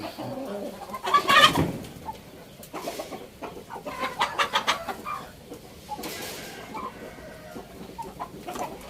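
Breeder hens cluck and coo close by in a Thai poultry yard, with irregular bursts of clucking and a louder squawk early on, and someone speaks faintly underneath.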